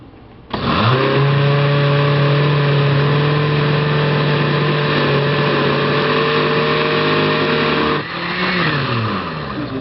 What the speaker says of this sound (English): we're going to go on ahead and blend this up